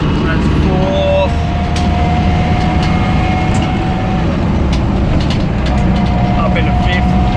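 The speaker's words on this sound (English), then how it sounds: "There's a tiny little bit of a bearing noise. I don't know if that's gearbox or transfer case." A Land Rover 110 driving in fourth gear with a slight gearbox or transfer-case bearing noise gives a steady, loud drivetrain and road drone with thin whining tones running throughout.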